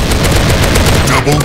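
A TMP submachine gun fires in the Special Ops shooter game in rapid, evenly spaced bursts, loud and close, filling the whole moment.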